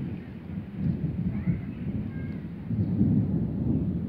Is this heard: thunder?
yes